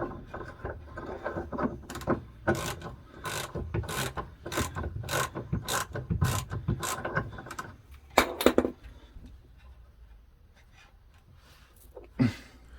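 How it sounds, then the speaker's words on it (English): An impact driver works leaf spring bolts on a vehicle's rear suspension in a series of rapid, evenly spaced ratcheting bursts that are close and clear, followed by a few quieter clicks and scrapes. "I got my brother's impact driver."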